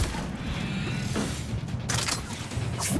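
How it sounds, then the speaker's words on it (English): A Rachni in the Mass Effect 3 game blasting a door nonstop, giving a continuous stream of mechanical rattling, creaks and bursty impacts at moderate loudness. "the last Rachni is just trying to blast this door nonstop."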